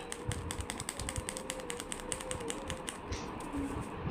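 A needle pricks holes into the glossy side of tracing paper, making a fast, steady run of faint dry ticks and taps close by, with low room noise underneath.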